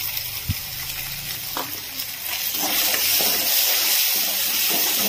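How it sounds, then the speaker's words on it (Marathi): Bedgi chilli masala frying in a little oil in a pan for a mixed vegetable bhogi bhaji, a steady close sizzle and hiss with a few stirring clinks, swelling slightly louder midway. "हा मसाला छान असा तळताना दिसतोय आपल्याला."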